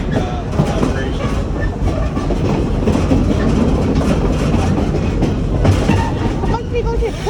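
A passenger train on a railway heard from on board, a continuous rumbling roll with repeated clickety-clack of wheels over rail joints, loud and close throughout.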